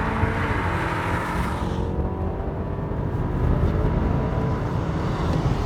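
An Audi A6 45 TFSI quattro accelerating hard in dynamic mode with stability control switched off, a steady loud engine drone heard from inside the cabin with rising harmonic tones and constant road noise, no talking.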